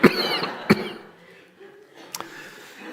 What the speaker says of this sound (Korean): 기침 아니고 사례가 걸렸어요.